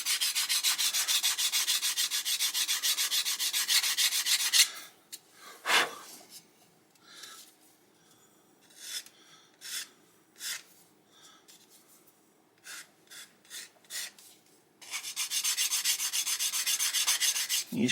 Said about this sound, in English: and then just sand it down